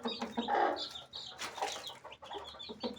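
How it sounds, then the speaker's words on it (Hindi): Chickens clucking in short bursts, some louder and nearer, others softer, from hens with newly hatched chicks, with scattered bird chatter around them. "ये मुर्गियाँ थोड़ी पड़ी हुई हैं,"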